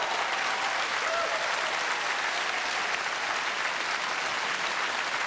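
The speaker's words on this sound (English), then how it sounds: "Give yourselves a big round of applause, everybody." Dense, steady applause from a large audience at a Brisbane evening flood relief appeal broadcast in 2011, sustained and even throughout without pause.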